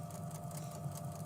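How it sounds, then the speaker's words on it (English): A sewing machine stitching rows of a quilt runs steadily and quietly, a continuous low motor hum with a faint repetitive needle rhythm, no talk over it. "I'm sewing up rows"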